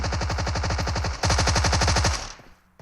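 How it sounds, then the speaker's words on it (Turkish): A Thompson submachine gun fires in PUBG Mobile, two rapid automatic bursts in quick succession, loud and close, the second burst slightly stronger before trailing off. "Thompson'la tarıyor"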